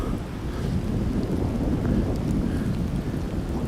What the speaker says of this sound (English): And that rain is really coming down now.